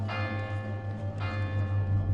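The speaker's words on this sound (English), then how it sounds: "I hear the tiny bell of the cathedral ringing insistently." A small cathedral bell rings insistently in a late-summer town, a steady metallic tone with a second strike swelling midway, moderately loud and alone without voices.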